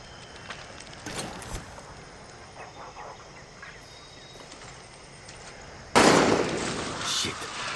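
Gunfire in the Far Cry 6 video game, a few sharp bursts of distant shots early on, then a loud, dense crackling volley near the end, with game ambience between.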